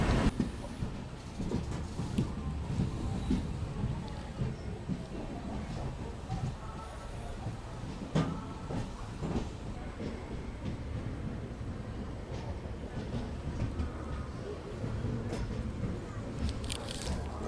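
A superfast express train rumbles into platform 1 at Kozhikode station with a constant low mechanical roar, crowd murmur and clatter mixed in, loud and close throughout.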